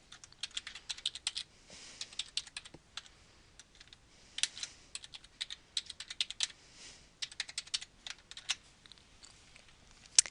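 Quick, light keystrokes on a computer keyboard enter a login and password, coming in short irregular bursts of close, soft clicking with brief gaps and no talking.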